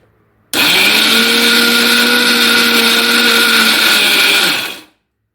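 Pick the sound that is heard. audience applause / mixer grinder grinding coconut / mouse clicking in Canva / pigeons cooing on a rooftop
mixer grinder grinding coconut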